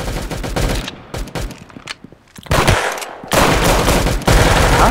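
Rapid automatic gunfire in the Roblox shooter Arsenal, loud bursts of shots with brief pauses between them, ending in sustained fire.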